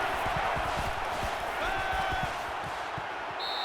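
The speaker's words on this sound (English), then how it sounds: "Becoming the 12th man, the crowd is always into it here" Stadium crowd in the NCAA 14 college football game, a steady roaring wash of cheering noise at constant loudness with faint whistle-like tones, no talk over it.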